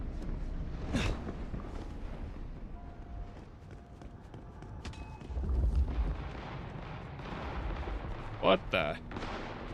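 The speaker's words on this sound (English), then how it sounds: "There's shots going off." Gunshots ring out in the Vampire The Masquerade Bloodlines 2 video game, a few sharp cracks spread over ambient noise and footsteps, with a person speaking briefly.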